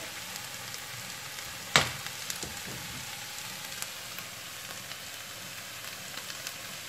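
Cubes of tomato sizzle in a frying pan, a steady soft hiss with faint crackles and one sharp clink or tap early on, fairly quiet and even throughout.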